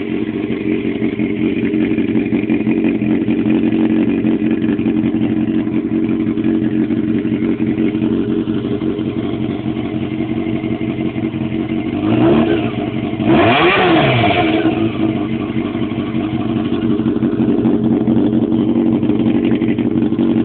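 A 1999 Honda CBR 600 motorcycle with an HRC muffler, its resonator, baffle and packing removed, idles with a throaty rumble. Two sharp revs rise and fall near the end before it settles back to idle, close and loud.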